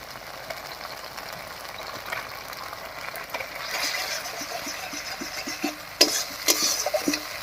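Spiced masala fries in oil in a pan, a soft continuous sizzle with light stirring scrapes and a few sharper clinks near the end, close and fairly quiet.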